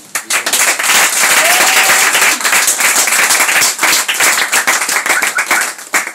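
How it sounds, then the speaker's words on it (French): A church congregation breaks into sustained applause, close and loud, dense clapping that holds steady for several seconds with faint crowd voices mixed in. "On acclame."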